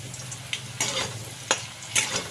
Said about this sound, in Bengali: সেই আলুটা ভেজে নিলাম এটাকে একটু নুন হলুদ দিয়ে ভেজে নিই